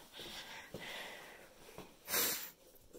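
A few short, wet sniffles through a congested nose, ending in one louder, longer sniff; no talking.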